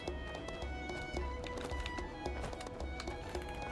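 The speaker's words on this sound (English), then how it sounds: "Horse." Horse hooves clip-clop in the Fallout: New Vegas game, a steady rhythmic run of close, distinct hoofbeats over a busy layer of in-game ambience and clatter.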